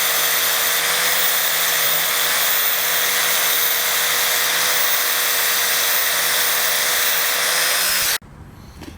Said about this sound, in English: now I've got that grinded down down as far as I need